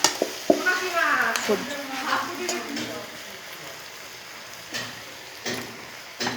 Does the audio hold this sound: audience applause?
no